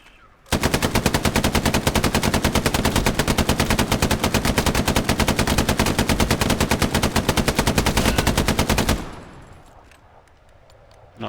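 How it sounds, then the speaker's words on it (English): A machine gun in the World War II shooter Hell Let Loose fires one long unbroken burst of rapid, evenly spaced, loud shots for about eight seconds. The burst cuts off sharply, leaving faint echo and ambience. "Machine gunner. You get machine guns."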